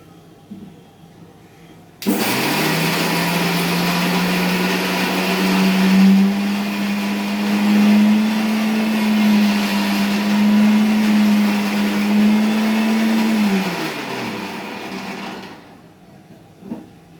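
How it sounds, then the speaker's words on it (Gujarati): A mixer grinder crushing green chillies in its jar whirs loudly and steadily for about twelve seconds, its motor pitch wavering slightly, then winds down to quiet. "અંદર જારમાં અને પછી આપણે મિક્સરમાં પીસી લઈશું"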